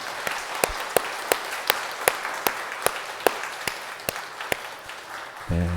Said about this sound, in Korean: 우리 박수로 한번 감사를 표했으면 좋겠습니다.